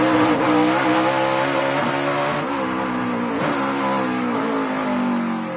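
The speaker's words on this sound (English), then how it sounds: "You can hear that car right on the verge of locking up the rear end when he gets on the brakes." A stock car practicing at the 2026 Focused Health 250, heard on track as the engine drones loudly and winds down under braking, the rear end close to locking up, a continuous near roar with slight pitch dips.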